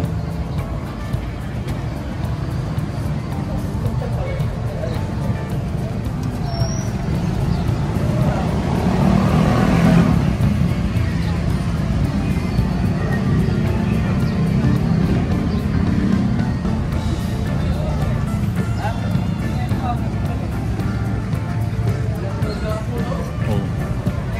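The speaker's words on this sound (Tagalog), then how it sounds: "Okay, mga tricycle nila rito." Motorized tricycles idle and pass on a street in Jagna, Bohol, Philippines, with a continuous engine drone that swells midway amid outdoor noise and faint crowd murmur.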